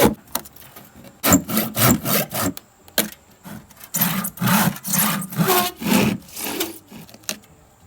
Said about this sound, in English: When the saw starts to get too tight, where it really starts to bind up, you just need to come back in and cut it off for relief.